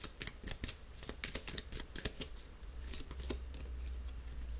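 Tarot cards being shuffled by hand, a steady run of crisp riffling flicks and slaps close up, continuous over several seconds with no talk.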